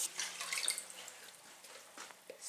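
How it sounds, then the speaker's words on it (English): Cold water, about half a pint, is poured into a jelly mix at home, giving a soft, brief trickle and splash of liquid, fairly faint. "She's adding half a pint of cold water now."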